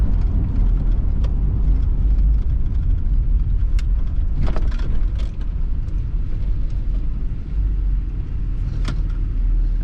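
1995 Nissan Pathfinder 4x4 SE slowing as it pulls over, its engine and road rumble a loud, steady low drone inside the cabin, with a few light rattles and clicks over the top.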